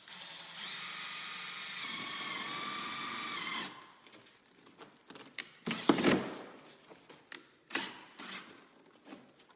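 A power drill whines steadily for several seconds, driving screws into the faces of wooden wall studs at a T intersection, then stops and is followed by scattered knocks and clatter of wood handling.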